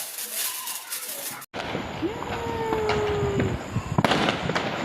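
Diwali firecrackers pop and crackle continuously in the distance, with a sharp whistling streak and a louder burst near the end.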